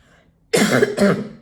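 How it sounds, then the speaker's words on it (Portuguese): A single close, loud allergic cough in two quick bursts after a moment of near silence. "tosse ainda, né? Tosse alérgica"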